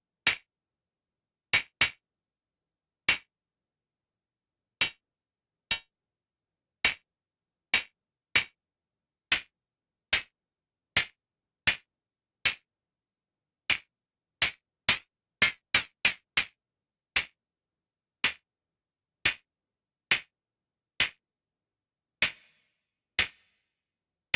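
Synthesized claps from the Ruismaker Noir drum synth app ring out alone in a long sequence, dry and snappy, some spaced evenly and others bunched into quick flurries.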